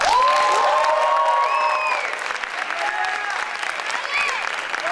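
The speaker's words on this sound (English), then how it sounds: "can we have a big round of applause for the mentors?" A crowd at a graduation ceremony applauds steadily throughout, with a few whoops and high cheers rising above the clapping.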